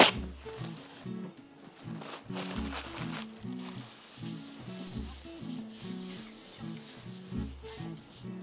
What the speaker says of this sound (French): Je vais donc verser mon appareil directement dans la poêle chaude.